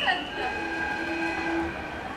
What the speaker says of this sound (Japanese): 本日臨時停車の快速豊橋行きが到着をいたします。